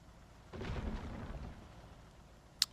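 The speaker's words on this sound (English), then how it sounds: "It's raining." A brief rumble of thunder with rain rises out of quiet in a World War II real-time strategy video game, fading after about a second before a sharp click.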